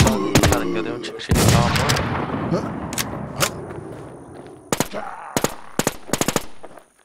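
Video game gunfire rings out in sharp single shots and quick clusters, loud and close, with several bursts near the start and a rapid string toward the end; people talk in Portuguese between shots.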